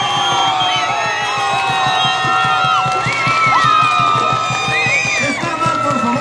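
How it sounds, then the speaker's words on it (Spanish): A crowd at a 2024 scissors dance event cheers and shouts for the dancer Piquichaki. Whistles and whoops sit over steady rhythmic clapping and loud, continuous crowd noise. "los aplausos y los gritos para Piquichaki"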